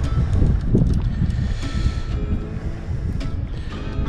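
Wind gusts across a sailboat moored off Man of War Cay, a steady loud rushing roar with buffeting microphone noise and a low rumble throughout, no voices.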